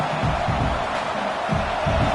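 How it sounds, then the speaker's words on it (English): Stadium crowd at an LSU football game roaring steadily during a red zone defensive stand, a dense continuous wall of cheering noise with low rumbling swells. "This crowd is trying to inspire this defense to make a big red zone stop"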